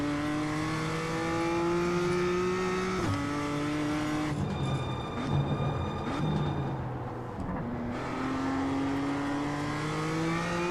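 A Toyota GR86 race car in iRacing at Road Atlanta revs hard through the gears, its engine drone climbing in pitch and briefly dropping at each shift, loud and steady throughout.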